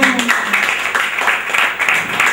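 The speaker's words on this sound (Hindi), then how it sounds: "बहुत बढ़िया, तालियां" A class or audience gives a short burst of clapping, several hands striking in quick uneven rhythm at close range for a couple of seconds, with a brief voice at the very start.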